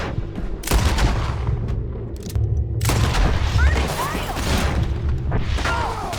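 Gunfire from a shootout in the video game Red Dead Redemption 2, heavy loud booming shots and volleys repeating across the whole stretch, with shouting voices mixed in.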